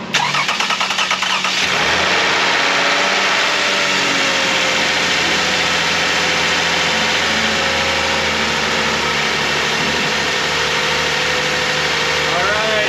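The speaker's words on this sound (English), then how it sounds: "You guys wait out there and watch the engine start." A Toyota 2GR-FE 3.5-litre V6 cranks and catches at about two seconds, then settles into a steady, loud, even idle close by for the rest of the stretch.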